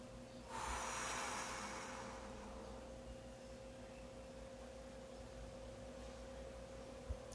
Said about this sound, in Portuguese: respirem bem devagar, segurem por 5 segundos e soltem bem devagar.